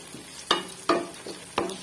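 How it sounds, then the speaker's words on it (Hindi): Ginger and garlic frying in ghee in a pan for sarson ka saag make a soft sizzle broken by three distinct metallic scrapes and knocks of a stirring spoon, close and without talk. "हम बनाते हैं अदरक लहसुन जल्दी से।"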